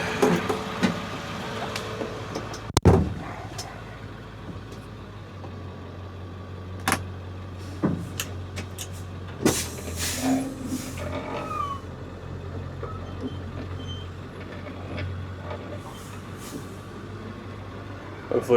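A truck hauling away debris from a burned house idles with a steady low engine rumble, broken by a few sharp clunks and knocks nearby, with no one talking.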